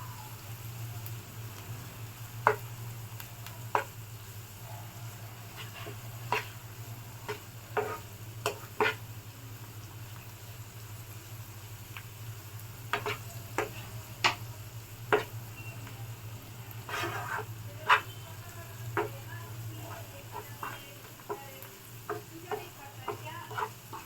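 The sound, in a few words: frying egg curry masala with chili powder in pan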